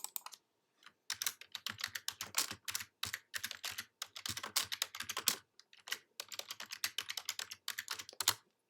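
Rapid bursts of typing on a computer keyboard while entering spreadsheet data, close crisp key clicks in uneven runs separated by short pauses, no speech.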